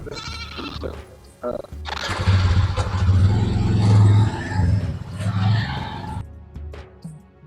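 A vehicle is driven up and parked in the shade. A steady engine rumble swells and fades, with a brief tire scrape and voices talking over it.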